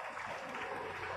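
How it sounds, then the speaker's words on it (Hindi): Audience clapping at a Hindu devotional bhajan program in a village, a dense, steady wash of applause filling the space continuously and fairly loud, with no voices standing out. "हेलो ताली बजाओ।"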